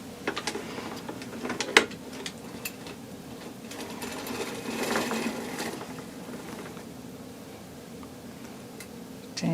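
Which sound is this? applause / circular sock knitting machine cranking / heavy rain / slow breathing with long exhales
circular sock knitting machine cranking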